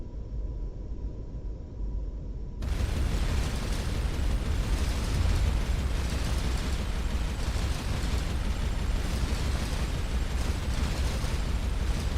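Turret weapons firing at a derelict in the space game Starcom: Unknown Space, a dense roaring barrage of explosive blasts that starts abruptly after a quiet hum and keeps going loudly for about ten seconds.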